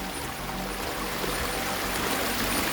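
Floodwater from a burst forest lake rushes steadily across a coffee plantation, a continuous close wash of flowing water heard alone.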